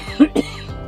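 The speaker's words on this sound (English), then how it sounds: "Sorry, I do still have a cough." A person coughs twice in quick succession, close and fairly loud, short harsh bursts with a brief pause between them.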